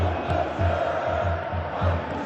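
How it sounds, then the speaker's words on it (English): Crowd noise from a simulated Galatasaray versus Liverpool football match, a steady stadium roar with a pulsing low rhythm like chanting, continuous and moderately loud with no speech over it. "the crowd are reacting to that now"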